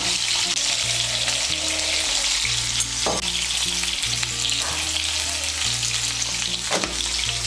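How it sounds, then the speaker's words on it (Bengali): Pieces of pointed gourd (potol) tossed with salt and turmeric sizzle steadily in a frying pan, a constant close crackle with occasional stirring clinks and scrapes. "নুন আর হলুদের গুঁড়োটাকে মিশিয়ে নিয়ে পটলগুলোকেও লাল করে ভেজে নেব"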